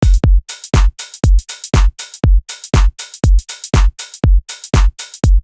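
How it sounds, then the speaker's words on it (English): Programmed drums in Cubase pulled back behind the beat for a relaxed thwack: a steady loop of booming kicks and cracking snares with bright cymbal sizzle, close and loud, with no voices over it. "We pull it back, we get more of a"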